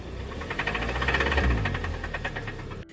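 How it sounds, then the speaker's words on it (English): A rough, steady car engine running close by with a rapid rhythmic knocking clatter throughout, persisting despite many replaced parts, cutting off abruptly at the end. "Customer replaced a bunch of parts hoping it would fix this engine knock"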